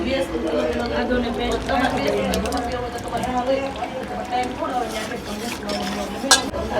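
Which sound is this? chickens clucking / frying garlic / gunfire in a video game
frying garlic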